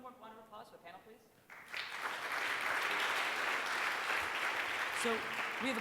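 After a moment of a speaker's voice, a conference audience breaks into loud, sustained clapping for the panel at GitHub Universe 2015, and a voice briefly cuts through near the end.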